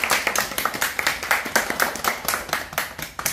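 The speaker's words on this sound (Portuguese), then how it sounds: "A dona Rosiane também recebe o seu presente do canal e recebe as palmas." A small group of people claps at home, distinct and fairly rhythmic hand claps close by, loud and steady throughout with individual strikes clearly separated.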